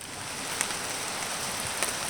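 Rain falls steadily outdoors at a campsite, an even wash of hiss with a few sharper drips. It is moderately loud and runs alone without talk.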